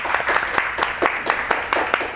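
An indoor studio audience gives a guest a brief round of crisp, rhythmic clapping, with sharp claps landing in a steady, fairly close beat and faint voices beneath.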